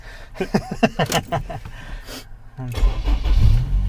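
A Honda S2000 with a turbo kit cranks and catches after a push-button start, then settles into a steady, loud idle rumble following a brief moment of voices.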